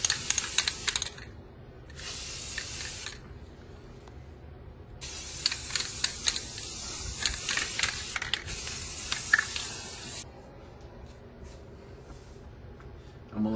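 Khaki spray paint going over a brown base coat in a few close hissing bursts of aerosol, some short and one longer, separated by quiet gaps with light handling clicks.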